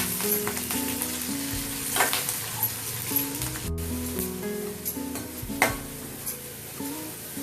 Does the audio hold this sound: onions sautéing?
yes